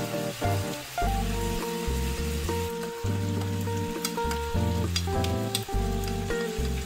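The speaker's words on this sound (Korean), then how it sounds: "양파가 잘 익을 때까지 볶아줍니다." Thin-sliced frozen pork belly is stir-fried with soy sauce, onion and vegetables, giving a continuous frying hiss beneath prominent background music with steady tones.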